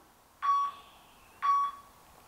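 Two identical electronic beeps from a workout timer, about a second apart, in an otherwise quiet room during an abs exercise routine.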